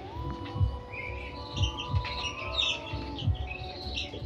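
Pigeons in a home coop give soft, low, rhythmic coos in repeated pulses, with faint chirps from other birds in the background and no speech.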